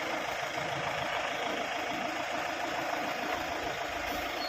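Mahindra Bolero pickup truck, a 2013 model, with its engine running steadily while the truck reverses, a continuous mid-low diesel drone with light knocking, constant and fairly faint.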